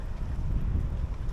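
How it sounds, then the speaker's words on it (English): Strong wind buffets the microphone outdoors at a waterfront park in Clearwater, Florida, a loud continuous low roar with no voices. "It's very windy, so just excuse the wind."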